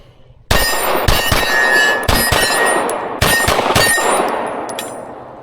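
A PSA Micro Dagger pistol fires a rapid string of sharp, loud shots close by, with clustered reports in quick bursts and ringing decays between them, and no talking.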